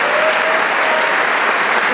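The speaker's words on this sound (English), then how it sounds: "A round of applause for John, ladies and gentlemen." Sustained, dense applause from a large audience, loud and even throughout, with faint voices mixed in.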